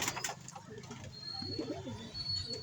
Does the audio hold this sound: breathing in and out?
no